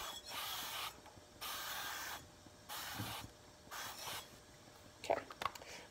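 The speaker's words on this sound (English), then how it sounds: "this is high heat spray, especially since we're gonna be doing eggs normally on high heat" High-heat cooking oil spray hisses onto a five-burner griddle in four separate bursts of about a second each, close and fairly quiet, followed by a few small clicks.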